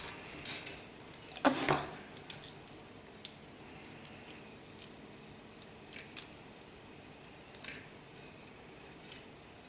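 Cutting 1 mm aluminium wire for a festive necklace: one crisp snip of cutters near the start among small metallic clicks and handling rattles, close and quiet, no talking.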